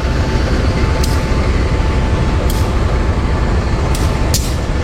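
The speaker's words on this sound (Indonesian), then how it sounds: "Nah ini untuk lokomotif yang berdinas nih, CC201 ya." CC201 diesel locomotive, in service since 1977, heading the Walahar local train, a constant heavy engine rumble close by with a few sharp air-brake-like hisses, no talk.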